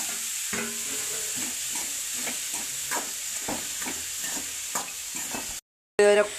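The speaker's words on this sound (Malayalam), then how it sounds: "ഇനി നമുക്ക് കുറച്ച് കൂമ്പ് തോരൻ നമ്മൾ അരിഞ്ഞു വെച്ചിരുന്ന അത്രയും ഇട്ട് കൊടുക്കാം നല്ലപോലെയൊക്കെ മിക്സാക്കി കൊടുക്കുക" Chopped banana blossom thoran fries in a pan under a steady sizzle while a spoon scrapes and stirs it in a rhythmic series of strokes, close up, with a brief silent break near the end.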